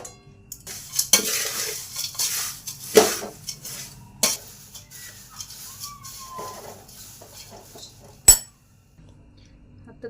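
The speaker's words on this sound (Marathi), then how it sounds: "आणि हे सगळं मिक्स करून घ्यायचं" A spoon stirs and tosses flattened-rice chivda in a metal pan, producing scraping, rustling mixes and occasional sharp clinks against the pot, with a soft background hum and a few quiet gaps.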